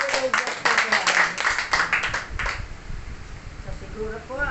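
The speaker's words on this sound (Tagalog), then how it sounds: "Malakas na palakpak sa ating Panginoon Diyos na Diyos" A congregation at a Filipino Catholic evangelization worship gathering bursts into loud applause for about two seconds, a dense burst of claps that fades away as a single voice takes over speaking.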